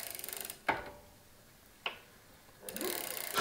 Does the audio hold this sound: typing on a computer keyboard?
no